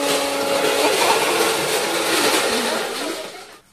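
A blender whirs loudly and continuously while making a banana shake with ice, then stops abruptly, with no talking over it.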